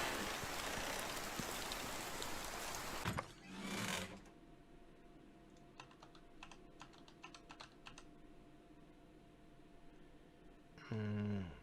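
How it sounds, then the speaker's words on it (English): Rain falls in the medieval farming game Medieval Dynasty, a steady hiss of drops for a few seconds before it drops to a faint patter with light clicks, and a louder burst returns at the very end. "Let's get out of the rain."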